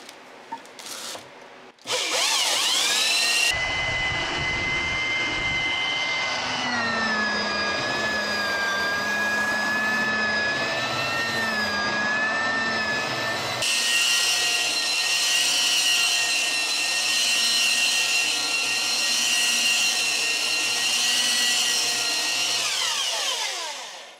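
A 1970s German-made Bosch 1270 4x24 belt sander starts up after a short click and runs loud and steady for about twenty seconds, with a sustained whine whose pitch wavers and then climbs as it is worked against wood.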